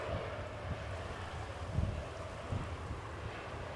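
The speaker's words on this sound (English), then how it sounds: "Well, the wind's up." Strong wind of over 40 mph buffets an outdoor microphone at Edinburgh Airport, making a constant loud roar and rumble with a few heavier gusts and no voices.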